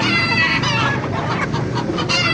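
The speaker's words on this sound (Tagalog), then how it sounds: "Kakaibang manok na makikita dito sa Baliwag." Chickens cluck continuously and close by in a busy, layered chorus at a market in Baliuag, with overlapping calls and a crow-like call in the mix.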